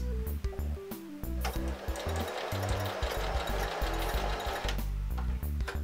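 A Pfaff Smarter 140 sewing machine runs at a steady, loud mechanical whir for several seconds as the foot pedal is pressed, with only a brief start and a stop near the end and no talking.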